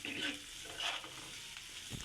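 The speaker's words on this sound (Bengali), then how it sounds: "পেঁয়াজগুলোকে কিছুটা লাল হয়ে যাওয়া পর্যন্ত ভেজে নিতে হবে।" Chopped onions sizzle and fry in the leftover oil from frying hilsa fish, with steady crackling broken by a few louder bursts as they are stirred; close and alone, no voices.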